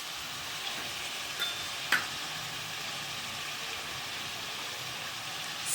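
Fried rice with garam masala frying quietly in a pan, a soft continuous sizzle with a few faint clicks and scrapes from stirring.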